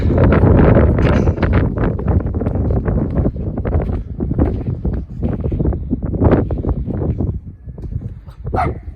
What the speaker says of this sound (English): Sorry, it's a little windy, I know.